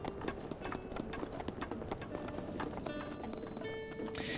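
Horse hooves clip-clop in a steady, quick rhythm while riding through the world of a Zelda game, with game music tones and chimes layered over the trotting, fairly close and moderately loud with no talking.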